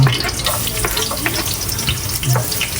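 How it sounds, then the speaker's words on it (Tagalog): Garlic frying in hot cooking oil for ginataang paa ng manok, a steady close sizzle with light crackles and occasional stirring throughout. "Ito ay susunugin ko na po muna ng konti ang bawang."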